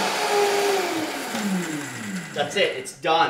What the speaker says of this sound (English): make sure that this is on high, the turbo is on high, and then you're turning it on